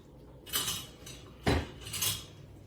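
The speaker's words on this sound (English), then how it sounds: "I'm going to move on to a wooden spoon because you need its stoutness rather than a silicone-y, plasticky spatula." A wooden spoon knocks and scrapes against a bowl while Nutella brownie batter is mixed, giving a few separate clattering strokes close up, with no talking.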